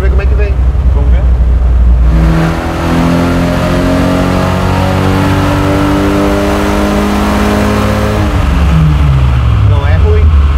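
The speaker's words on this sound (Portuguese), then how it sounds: "vamos dar uma puxada até em cima pra ver como é que vem" A Ford Maverick's naturally aspirated V8 on a dyno makes a loud pull, with engine pitch climbing steadily from about two seconds to eight seconds before dropping off. Steady rumble comes before and after, and people talk under the engine.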